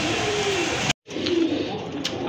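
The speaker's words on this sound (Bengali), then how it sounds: "আরেক জোড়া কবুতর মাশাআল্লাহ খুবই সুন্দর টপ লেভেলের কবুতর দেখতে পাচ্ছেন আপনারা।" Pigeons at a pigeon sale coo nearby, two low, soft coos separated by a brief cut in the sound, with faint background noise and no speech.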